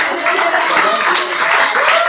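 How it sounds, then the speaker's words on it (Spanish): A church congregation applauds together in a steady wash of clapping, with some voices mixed in throughout the short burst. "Un aplauso a Cristo."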